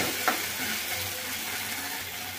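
Ground spices with Kashmiri chilli powder and salt fry on a low flame in a pan for a paneer kofta curry, giving a steady close-up sizzle with a faint scrape of stirring.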